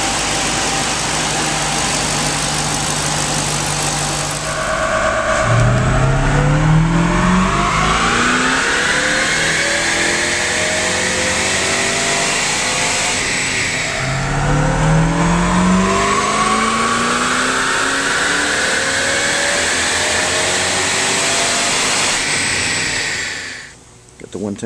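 Ford Mustang GT500 with a JLT carbon fiber intake on a test run, engine idling then revving up twice with a rising roar, loud and close throughout.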